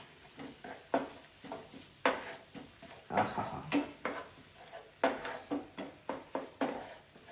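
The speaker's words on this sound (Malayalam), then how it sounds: "ആവശ്യത്തിന് സോസ് ആഡ് ചെയ്ത് നമുക്കൊന്ന് മിക്സ് ചെയ്ത് കൊടുക്കാം" Sauce being stirred into shakshuka in a pan: a spoon clinks and scrapes against the metal in a steady rhythm of taps, soft and close with a faint sizzle beneath.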